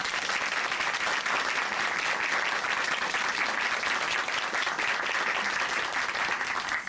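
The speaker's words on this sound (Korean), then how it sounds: "다시 한번 귀한 간증 전해주신 유성명 자매님께 큰 박수 보내드릴게요" An audience in a church studio gives a long, steady round of applause, dense and even throughout with no voices over it.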